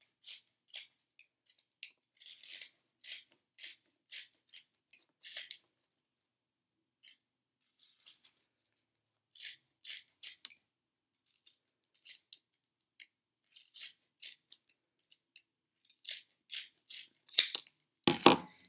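Scissors snip through sandwiched worbla and foam pieces, cutting around the layered shape in a steady run of short crisp cuts that pause now and then, with a longer rustling burst near the end.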